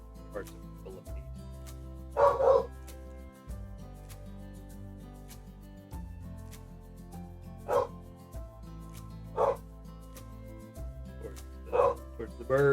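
Several dogs bark and yip in repeated bursts at turkeys, some barks close and loud, with a steady low hum and background talk running underneath.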